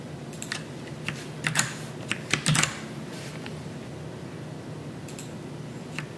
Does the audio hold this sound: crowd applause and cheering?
no